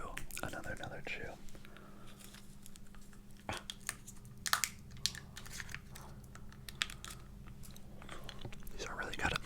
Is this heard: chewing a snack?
yes